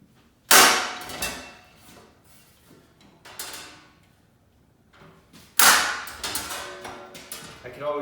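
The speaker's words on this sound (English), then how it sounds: "go ahead and mark your holes and punch them prior" A small hand punch pierces holes in sheet metal while a floor pan is made from scratch. Two sharp, loud metallic snaps stand clearly apart, and fainter clanks and rattles fill the gaps between them.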